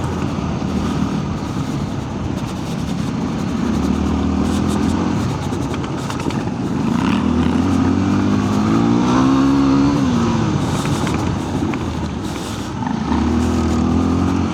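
A KTM 890 motorcycle rides off-road, its engine droning loud and close throughout, rising and falling with throttle changes, under wind and rough rattling from the terrain.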